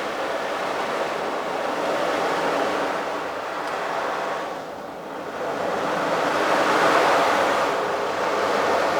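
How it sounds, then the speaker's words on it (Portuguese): Continuous loud sea surf, with ocean waves washing and swelling in long surges, dipping briefly midway before building again. No voices are heard over the steady roar. "Vai deixando o som do mar entrar no ouvido de vocês."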